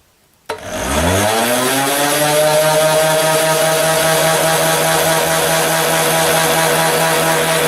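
A homemade jet engine, the front unit only, running on a test stand: a sudden ignition thump spools up within a second into a loud, steady roar with a droning whine that holds unbroken to the end, close by with no talk.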